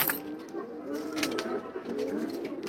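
A pet pigeon coos softly nearby in a home loft, a low throaty burbling repeated in gentle waves over light room noise.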